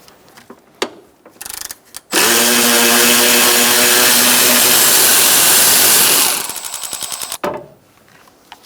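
A power tool with a 10mm socket zips a nut off a stud on a 2004-2009 Mazda 3, one long loud whirring run preceded by brief clicks and followed by short ratcheting bursts, close up.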